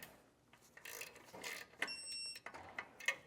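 A digital torque wrench gives short high electronic beeps, one held tone and a few quick chirps, amid faint mechanical clicking and shop noise while rear air helper springs are installed.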